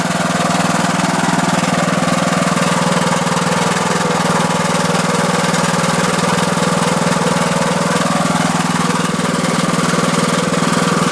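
A Troy-Bilt Super Bronco lawn tractor engine runs at a steady, loud drone, continuous and close throughout with no talking.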